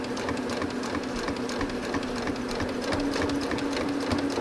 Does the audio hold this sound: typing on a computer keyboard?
no